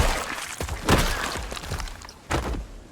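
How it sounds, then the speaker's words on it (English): Zombies smash windows inside a gas station in Project Zomboid, with a few sharp breaking and shattering hits and dull thuds spaced irregularly, moderately loud with no talk. "I can hear zombies smashing the windows inside the gas station"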